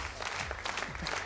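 A brief burst of audience applause for the children at an X-Factor gala, a short patter of clapping hands from a crowd.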